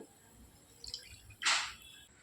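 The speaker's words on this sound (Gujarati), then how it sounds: "સાથે આપણે અડધો કપ જેટલું પાણી એડ કરીએ" Water poured from a cup into semolina dosa batter with sour curd, a brief close splash about a second long, preceded by small drips and clinks.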